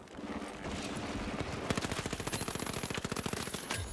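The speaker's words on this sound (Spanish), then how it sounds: "Estoy recibiendo muchos balazos de snipers." Rapid bursts of gunfire in the online shooter game The Finals, a brief shot or two followed by a fast, evenly spaced string of sharp cracks, close and loud, with no voices.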